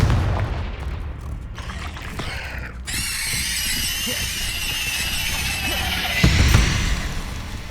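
A Confringo blasting curse in Hogwarts Legacy detonates with a loud booming explosion, followed by crackling debris and a ringing, shimmering magical tail, with another heavy thump near the end.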